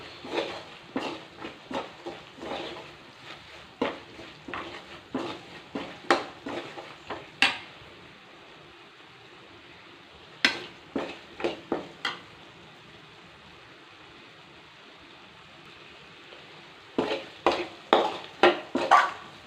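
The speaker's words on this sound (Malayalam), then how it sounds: "ഇനി നമുക്കിതൊന്ന് ജസ്റ്റ് ഒന്ന് ഈ പച്ചമണമൊന്ന് മാറുന്ന വരെ മാത്രം ഒന്ന് വഴറ്റിയെടുക്കാം" Coriander powder sautéed in a pan for a Kerala pachamanthal curry, with a spoon scraping and clinking against the pan in quick bursts of strokes and brief pauses, over a faint steady sizzle and no talking.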